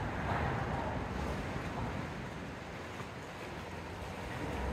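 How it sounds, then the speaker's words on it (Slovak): The Rudava river runs briskly past a packraft in a wide, open channel, a steady close rush of water with some wind buffeting the microphone and no voices. "Rieka svižne tečie, koryto je prehľadné, dostatočne široké."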